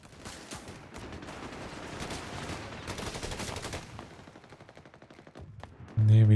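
Rapid gunfire from a Company of Heroes 3 tank battle, dense crackling bursts of shots that run continuously at moderate volume, ending in a sudden louder blast.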